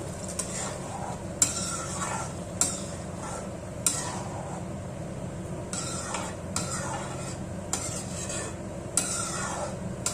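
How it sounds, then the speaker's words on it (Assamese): Palak butter paneer curry sizzling in a pan as hot water goes in, a steady close hiss broken by periodic spoon scrapes and light metallic clinks while it is stirred, with no voices. "পানী দিম, গৰম পানী দিছোঁ মই।"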